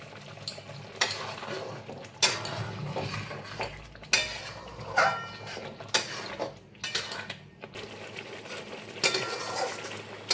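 A spoon scrapes and knocks against a pan as Bengali mutton kosha masala is stirred with a little water, giving irregular close clatters and scrapes over a soft background sizzle.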